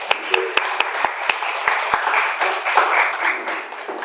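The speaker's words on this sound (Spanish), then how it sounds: "Un gran aplauso." Audience applause at a lecture: sharp individual claps at first, swelling into a fuller round of clapping from a crowd indoors.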